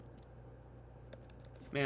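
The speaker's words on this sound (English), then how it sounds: "let's make sure I'm typing this in correctly" Soft, rapid keystrokes on a computer keyboard tap in quick bursts beneath a low hum, followed at the end by a voice starting to speak.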